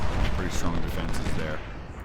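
Musket volleys and gunfire crackle and thud continuously through a Civil War battle in the strategy game Ultimate General: Civil War, dense and rumbling, with someone talking over the shooting throughout.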